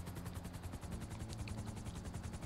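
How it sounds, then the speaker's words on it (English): A helicopter flies in GTA 5 Online, its rotor beating in a steady rapid chop with a low engine drone underneath, continuous and fairly close. "Slow helicopter"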